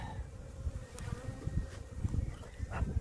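Honeybees swarm around an opened spring hive, a dense steady buzz of many insects filling the air close by, with faint knocks and rustles underneath.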